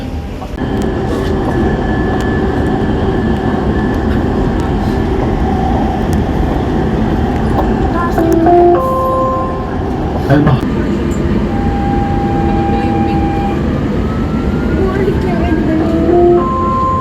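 Loud, continuous rumble and rolling of a Dubai Metro train at an interchange station for the red and green lines, with squealing tonal whines and clunks as it runs, and people talking over the noise.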